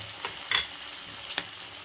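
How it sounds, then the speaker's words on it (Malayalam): Capsicum, cut into large pieces, stir-fried in a pan for a restaurant-style mushroom chilli with soy sauce; a soft steady sizzle with a few brief scraping stirs, close and alone. "ഇനി ഇതിലേക്ക് നമുക്ക് ക്യാപ്സിക്കം ചേർത്ത് കൊടുക്കാം."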